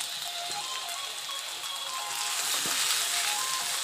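Potato pieces frying in oil in a pan for methi aloo sabji, a steady soft sizzle with faint crackles, close and even, no voices.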